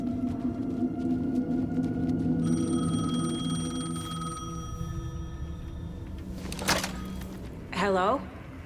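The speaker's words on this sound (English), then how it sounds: "The payphone was ringing." A payphone rings in the video game Alan Wake II, a sustained electronic ring with steady tonal harmonics over a dark ambient bed, followed by short bursts of other sound near the end.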